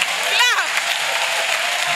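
A church congregation applauding during a deliverance service, a dense steady clatter of clapping with a voice calling out over it.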